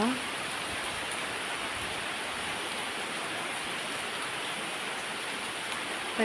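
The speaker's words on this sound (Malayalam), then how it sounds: "നല്ല മഴ ഉണ്ടായിരുന്നു ഇപ്പൊ കുറവായി മഴ" Steady, dense rain falls continuously, a close hiss of drops on surfaces with no voices over it.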